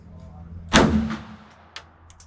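A repaired Bulgarian Makarov pistol fires one loud, sharp shot that rings briefly, followed by a few faint small clicks.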